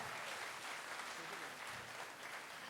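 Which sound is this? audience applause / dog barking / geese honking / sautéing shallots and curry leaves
audience applause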